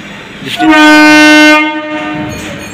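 A Kolkata Circular Railway local train at Khidirpur station sounds a loud, sustained horn blast for about a second, over a background of rail and station noise.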